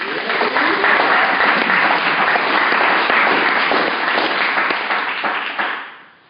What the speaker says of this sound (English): Clap it up for Eric.